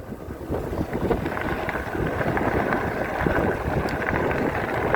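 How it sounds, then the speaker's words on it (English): Wind buffets the microphone in a constant loud rumble during a ride on an EMX Xtreme dual-motor 60V electric scooter, with a steady rushing noise underneath and no talking. "But boy, it's windy today."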